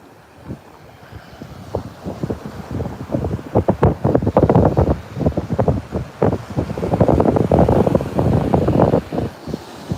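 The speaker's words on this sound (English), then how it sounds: "I got the wind at my back, so I hope it's not too strong." Strong wind buffets the microphone on the beach at Virginia Beach, loud rumbling gusts rising and falling in uneven bursts with no talking.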